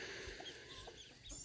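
Chickens cluck softly in a backyard flock, new birds mingling with the established hens, with faint scattered calls over a low, quiet outdoor background.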